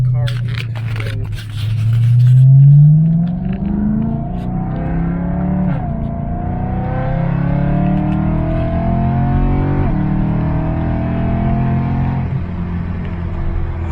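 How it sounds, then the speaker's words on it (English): A car pulls away and drives off nearby, its engine note rising as it accelerates, then settling into a steady rumble with shifting gears. "is that car going to go?"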